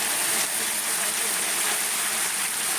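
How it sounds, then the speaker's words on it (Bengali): Heavy rain pouring steadily in Amtali, Barguna, a dense continuous hiss with no breaks, fairly close and loud throughout. "খুব ভারী আকারের বৃষ্টি হচ্ছে আমতলিতে"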